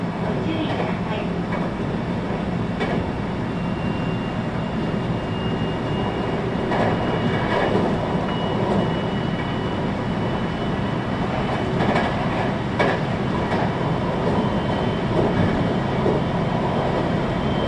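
Steady rumble and clatter inside a passenger train running on rails on the Ainokaze Toyama Railway between Tomari and Toyama, with faint rail clicks and muffled onboard announcement speech over a constant loud interior roar.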